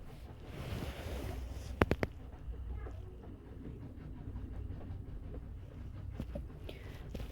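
Ambient train sounds aboard the Orient Express in the video game 80 Days, a steady low rumble with a few sharp clicks near the start and more later, with no talk.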